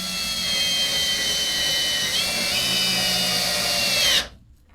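A power driver sinking a screw fitted with a flat washer into a permanent steel jackpost under a sagging crawlspace beam, a loud close whine holding steady with slight pitch shifts for about four seconds, then cutting off abruptly.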